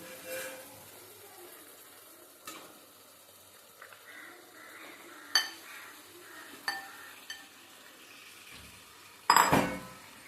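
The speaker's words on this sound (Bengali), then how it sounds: "দিয়ে এবার কিছুক্ষণ মশলার সাথে আমরা ভালোভাবে নাড়তে থাকবো" Marinated chicken is stirred with cooked-down spices in a pot, quiet scraping with a few isolated metal clinks and knocks and a louder clatter near the end, no talk.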